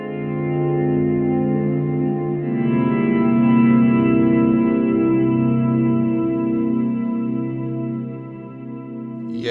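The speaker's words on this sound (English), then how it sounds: "It's time to set up our second reverb sound. I'm going to pick Swell" Guitar through a Ventris Dual Reverb pedal on its Swell setting: a sustained chord blooms in slowly and hangs in a lush, washy reverb tail for several seconds, heard alone.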